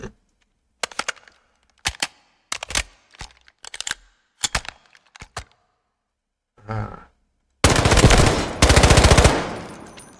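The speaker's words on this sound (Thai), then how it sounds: "มันเป็นซับแมชชีนกันเนาะ ระยะใกล้ก็จะหวังผลได้ดีกว่า" An MK4 submachine gun fires in the video game Delta Force: several short, sharp bursts separated by pauses, then a long, loud, dense stream of rapid shots near the end.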